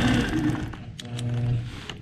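A sewing machine runs continuously while stitching a quilt border, a close, steady mechanical whir with a rapid stitching rhythm throughout, with no voices.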